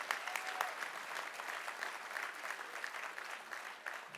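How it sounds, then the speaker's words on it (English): Sustained audience applause at a National Action Network political conference, a steady wash of many hands clapping at moderate distance for the full length, with no talk over it. "Let's give the chairman a round of applause."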